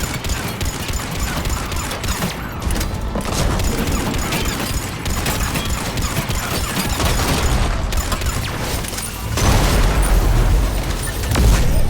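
Cannons firing in the video game Mass Effect 3, a dense, continuous barrage of booming blasts and bursts with heavier, louder impacts toward the end, set against game battle noise.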